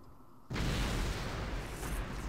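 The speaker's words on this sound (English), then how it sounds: "You hear explosions going on?" A sudden loud blast hits about half a second in, then a sustained rumbling roar of explosions from a space battle in the video game Star Trek Armada II continues without talk.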